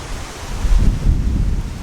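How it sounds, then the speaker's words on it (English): A gust of wind sweeps across a golf course and buffets the microphone, a low roaring rumble that swells after a moment and stays heavy to the end, with no talking over it. "Just a gust mid-swing."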